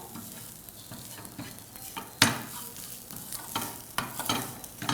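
Poppy seeds with cardamom dry-roasting in a pan over a low flame while a spoon stirs them, making gentle sizzling and rustling with intermittent sharper scrapes against the pan, close and fairly quiet.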